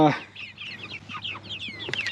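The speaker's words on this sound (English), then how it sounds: "I thought I'd show you what our meat birds look like" Meat chickens clucking and chattering close by in a flock, many short, quick calls in an irregular stream, with one louder squawk at the start.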